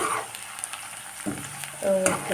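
Onions frying in a pan for a chicken dish, stirred with a utensil: a soft sizzle with a few scrapes, and a brief clear ringing tone near the end.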